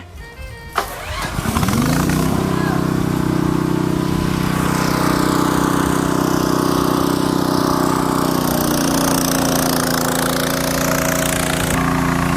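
A water pump engine, started by remote control from about a hundred metres away, cranks over and catches, then runs steadily at a loud, constant drone close by with no talking.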